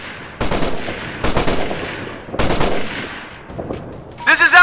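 Bursts of automatic gunfire in Operation Flashpoint: Red River come in three loud, close strings of rapid shots with short pauses between and a weaker burst after, and a voice begins speaking at the very end.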